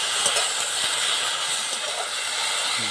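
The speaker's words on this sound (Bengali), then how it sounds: "এইবারে দেখুন চাললাটা দিয়ে দেব। চালটা দিয়ে একটু ভেজে নেব।" Elephant apple (chalta) pieces fry in hot oil with panch phoron and dried red chillies, giving a steady, dense hiss and sizzle that runs unbroken and fairly loud, with no talking.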